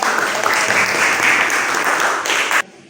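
Applause for the scouts (pramuka) at a school teaching session, a dense, steady crowd clapping that holds at full strength for over two and a half seconds, then cuts off abruptly into quiet room tone.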